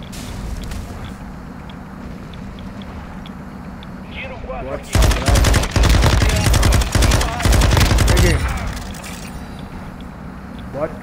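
Bursts of automatic gunfire from a Call of Duty DMZ match crackle loudly in rapid clusters through the middle of the scene, with quieter game ambience before and after and occasional voices from players.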